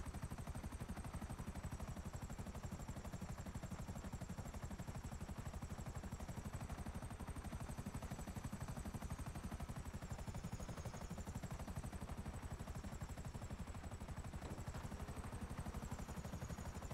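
A helicopter flies in the video game GTA 5, a steady, even rotor drone with a continuous high engine whine holding level throughout, faint and unbroken, with no voices.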